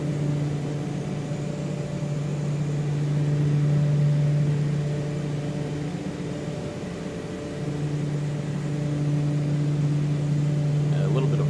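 Turboprop engines of the Black Square Turbine Duke in MSFS hum steadily with a strong tonal drone that dips and swells as the power is pulled back.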